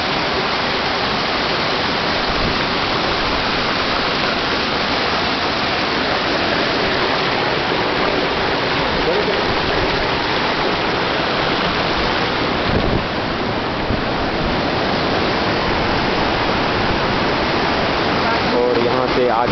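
The Amar Ganga river stream near Gaumukh on the Tapovan trek rushes in a continuous, loud, close roar of flowing water with no talk.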